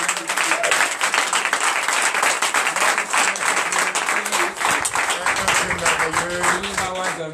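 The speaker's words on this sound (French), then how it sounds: "Je vous demande d'applaudir encore." A congregation at a church prayer night bursts into sustained, energetic applause, many hands clapping loudly and continuously while voices rise faintly underneath.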